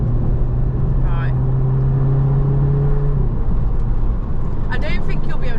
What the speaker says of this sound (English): It's when you going up a gear, when it changes, it's very like noisy.